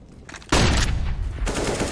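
Counter-Strike gunfire during a match on Mirage, including an RPK: quiet game ambience, then a sudden loud, dense burst of rapid shots that runs on continuously, with a second surge near the end.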